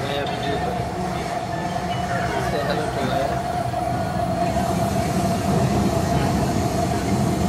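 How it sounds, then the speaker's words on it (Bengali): Interior of a moving MRT metro train in Kuala Lumpur: a loud, continuous rolling rumble with a steady whine running through it for the whole stretch, with faint voices in the background. "ওকে আমরা এখন MRT ট্রেনে।"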